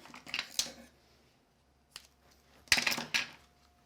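Scissors trimming a length of string at a craft table, two short bursts of crisp snipping a couple of seconds apart, close and clear with no talk.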